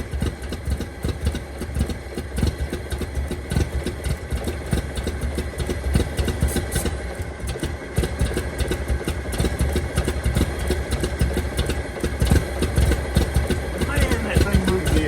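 A 1923 Franklin Model 10 car engine idles roughly and unevenly, a steady close mechanical chatter with uneven pulses running throughout, while people speak over it.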